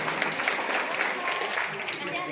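An audience breaks into applause, a dense crackle of many hands clapping steadily for a couple of seconds, fairly loud, with a voice talking over it.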